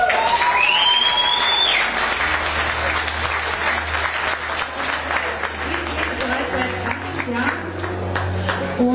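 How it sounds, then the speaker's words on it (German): Audience applause at a women's bodybuilding championship in eastern Germany, sustained clapping from a crowd filling the hall for the whole stretch, with an announcer's voice and a brief whistle-like tone near the start. "auch nochmal hier großen Applaus"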